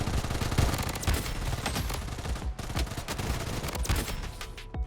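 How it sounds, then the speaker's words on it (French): Dense bursts of automatic gunfire from the shooter video game Bloodstrike rattle continuously and loudly, overlapping rapid shots with no talk. "Ça tire."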